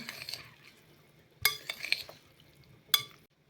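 Chicken heart salad being stirred in a bowl, giving soft scraping and a few sharp utensil clinks in two clear bursts, close and moderately quiet, with no talk.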